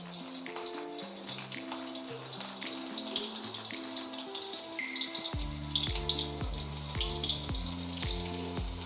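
Garlic sizzles in heated oil in a home kitchen, a steady frying hiss running underneath louder background music with piano notes.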